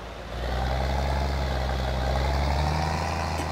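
A tractor in Farming Simulator 19 reversing with a steady, loud low engine drone that holds throughout, with no talk.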